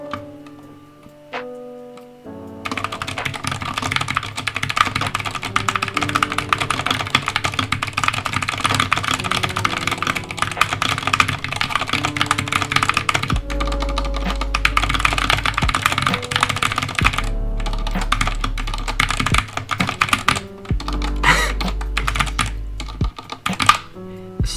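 Fast, steady typing on a GK61 mechanical keyboard fitted with light Gateron Silver linear switches, a dense run of close, crisp keystrokes with no talking, set against a faint background hum and a few pauses.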